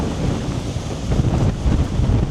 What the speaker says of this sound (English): That is windy as well,